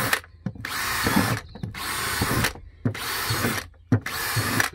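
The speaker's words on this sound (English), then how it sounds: "I love this drill, eh? This is a DeWalt." A DeWalt power drill bores drainage holes in a clay pot, running in four sustained whirring bursts with short pauses and clicks between them, close and loud without speech.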